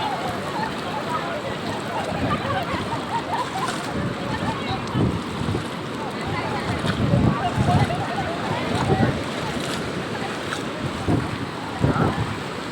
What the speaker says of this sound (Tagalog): Malaking alon ang idol.